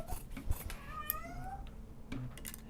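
A cat meows and squeals in short rising cries while hunting pom-poms indoors, faint and somewhat distant in a quiet sewing room, with some soft background clatter.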